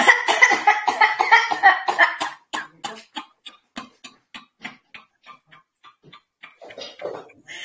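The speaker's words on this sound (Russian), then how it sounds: "сейчас делаем вдох такой и с насосом будем откашливаться" Forced coughing in a laughter yoga breathing exercise: a rapid run of loud, rhythmic coughs at first, then spaced, fading bursts that grow softer and breathier before picking up again at the end.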